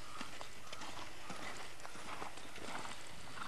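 Horses canter in small circles during show-jumping training, their hooves thudding in a quick, continuous rhythm at close range with no talking.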